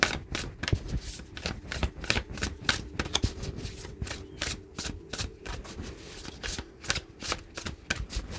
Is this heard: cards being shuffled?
yes